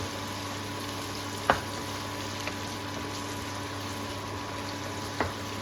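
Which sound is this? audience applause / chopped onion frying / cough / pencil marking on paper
chopped onion frying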